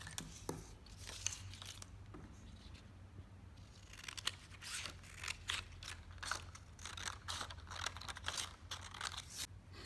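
Scissors cut a paper spring shape out of paper. Repeated short snips and crisp paper rustles follow each other in an uneven rhythm, close and fairly quiet over a low background hum, with no talk.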